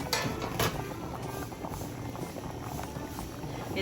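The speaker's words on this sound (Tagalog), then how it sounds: "Ayan po mga kadilag at kumukulo na." Water boiling in a pot: steady bubbling and simmering, a dense continuous hiss with small pops, close by and moderately quiet.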